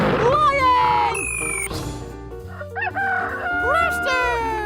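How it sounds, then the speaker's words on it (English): Cartoon rooster crows cock-a-doodle-doo a few times over cheerful children's music with dancing surprise eggs, the calls loud and clear above the melody. "Rooster!"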